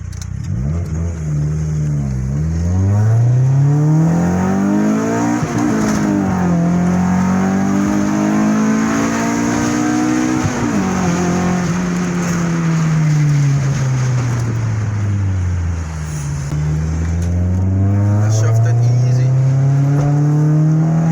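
A 1997 Honda car accelerating hard through repeated gear pulls, the loud engine note rising in pitch, dropping at each shift and climbing again, close and continuous with wind noise and occasional talk underneath.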